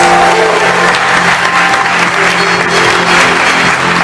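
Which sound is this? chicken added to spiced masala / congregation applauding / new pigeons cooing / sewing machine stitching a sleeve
congregation applauding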